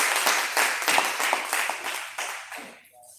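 Audience at a mushaira held for Gandhi Jayanti gives a poet a warm welcome, with a burst of dense clapping that thins into scattered claps and fades out.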